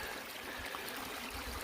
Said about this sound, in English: Let's tilt this water off here to see what all the material kind of looks like.